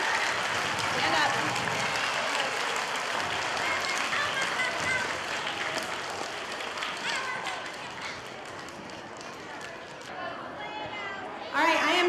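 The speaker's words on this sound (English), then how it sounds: "Let's give one more round of applause for all of our April Honesty winners." School assembly audience applauding award winners in a hall, a broad wash of clapping from many people that gradually thins out, with voices chattering underneath.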